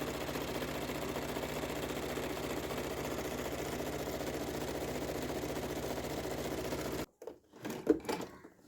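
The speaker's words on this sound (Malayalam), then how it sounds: "ഇത്രയും മെഷീനിൻ്റെ സെറ്റപ്പ് ഇങ്ങനെയാണ്. അത് കഴിഞ്ഞിട്ട് നമ്മൾ സ്റ്റിച്ച് ചെയ്ത് നോക്കുന്നത് ഇങ്ങനെയാണ്." A sewing machine stitches a scallop edge on a shawl, a steady close mechanical whir running for about seven seconds before stopping, followed by a few faint handling clicks.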